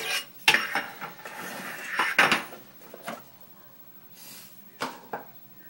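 A metal pan handled in a kitchen while making donuts: several sharp clanks and clinks of metal scattered irregularly, close and moderately loud, with quiet gaps between.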